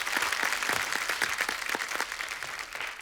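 Studio audience applause for a veteran dance master on a comedy talk show, a steady dense wash of clapping at moderate level with no talk, easing slightly toward the end.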